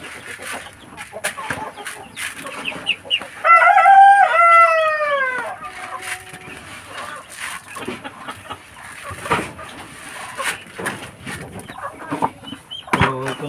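Breeder chickens in a rural yard cluck steadily while a rooster lets out a loud, clear crow near the middle, with scattered clucks and farmyard bustle continuing before and after.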